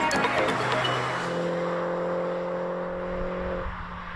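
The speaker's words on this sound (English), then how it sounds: "the 175 horsepower four-cylinder engine in the Cooper S sounds more like double pneumonia than a throaty turbo throb" A Mini Cooper S Clubman with a 175 hp four-cylinder engine drives along. Its steady, droning engine hum holds at one even pitch and is heard alone, without talk.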